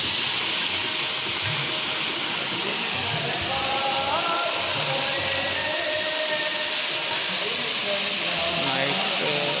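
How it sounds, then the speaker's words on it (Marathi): A water fountain sprays at the Nanded gurudwara, a steady broad hiss of falling water that continues evenly throughout, with faint people's voices and other sounds in the background. "सुंदर असा पाण्याचा फवारा."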